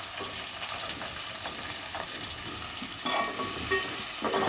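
Onions sizzling in hot oil with curry leaves, green chillies and cumin, a loud, steady hiss of frying close by that swells slightly toward the end, with occasional stirring scrapes.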